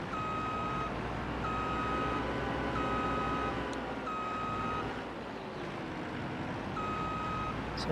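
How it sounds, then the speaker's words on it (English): A grape harvester in Farming Simulator 22 sounds its reverse beeper, a series of evenly spaced electronic beeps repeating over a low, steady engine hum, with no talk. "but it does have a reverse beeper."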